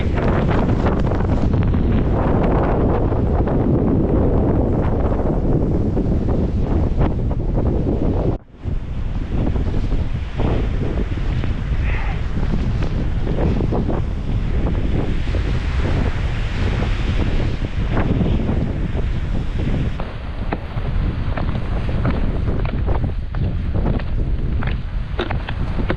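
Strong blizzard wind buffets the microphone in a loud, continuous roar, with one brief drop partway through before the gusting resumes unbroken.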